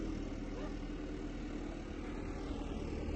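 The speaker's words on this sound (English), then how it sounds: "with some big heavy machinery. You can hear it coming down the hill right now." A steady, heavy engine rumble with a low droning hum from big heavy machinery coming down a hill, continuous and fairly loud throughout. No voices.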